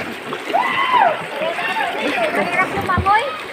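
Water sloshes and splashes steadily as a person swims in a clean river, close and fairly loud, with voices chattering and calling over the water throughout.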